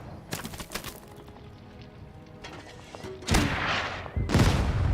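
Enemy mortar fire in the tank strategy game Total Tank Generals: scattered distant thumps early, then two loud broadband blasts near the end, heavy and close, with battle noise underneath.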